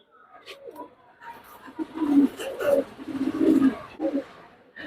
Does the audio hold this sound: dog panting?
no